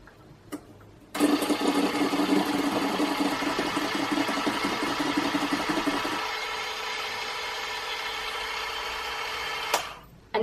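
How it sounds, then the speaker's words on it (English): An electric mixer creams gluten-, lactose- and yeast-free doughnut batter, starting abruptly with a steady whirring motor hum that drops in pitch partway through and then runs on before cutting off near the end. "And now mix until light and fluffy."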